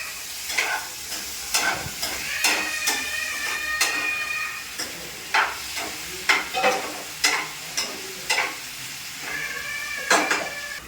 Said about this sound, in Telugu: కర్రీ అయితే ఉడుకుతుంది